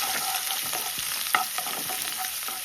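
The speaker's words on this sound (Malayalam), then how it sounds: "അപ്പോൾ ആദ്യമായിട്ട് നമുക്ക് ഇഞ്ചിയും വെളുത്തുള്ളി ഇട്ട് കൊടുക്കാം കേട്ടോ." Ginger and garlic sizzle in hot coconut oil for a Kerala-style mushroom curry, a steady frying hiss broken by a few clicks of stirring in the pan, with nobody speaking.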